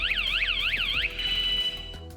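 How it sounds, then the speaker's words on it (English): A camper van security alarm: a loud electronic siren warbles in rapid sweeping cycles, then holds a steady high tone before fading; no voices. "to provide a powerful alarm to stop any attempted damage to the lock"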